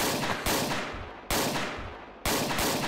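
Three loud gunshots from Garry's Mod, each a sharp crack with a decaying tail, spaced roughly evenly about 0.8 seconds apart, with no voices over them.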